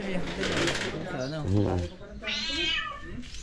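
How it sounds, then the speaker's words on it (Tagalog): A cat meows in a storeroom, with several drawn-out cries close by over ongoing talk and background noise. "May pusa eh."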